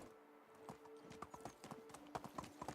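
Horse hooves clip-clop in the medieval farming game Medieval Dynasty, a quick irregular run of hoof strikes at close range with no talk, fairly quiet overall.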